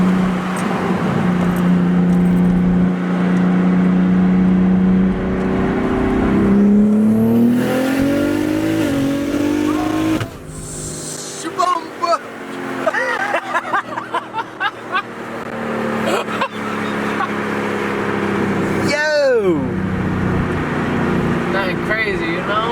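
A BMW M3 Competition engine revs hard and accelerates with the window down, a loud rising roar through the gears, shift breaks and crackles later, with occasional voices under it.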